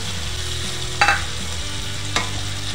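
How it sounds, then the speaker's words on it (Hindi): Ginger, onion and garlic paste fries in butter as tomato puree goes in, with a strong, steady sizzle close by and two distinct scraping clacks of a spoon stirring the pan. "अदरक प्याज लहसुन का पेस्ट भी काफ़ी भून गया है ये देखिए भी है और बटर भी सेपरेट हो रहा है"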